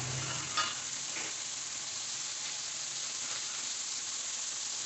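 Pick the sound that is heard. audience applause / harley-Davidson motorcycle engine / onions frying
onions frying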